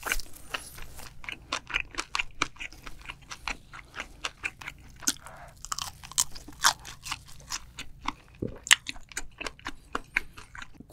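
Close crunchy chewing of enoki mushrooms dipped in soy sauce, part of a spicy seafood meal with octopus and squid, with dense repeated bites and crunches over about eleven seconds and no talking.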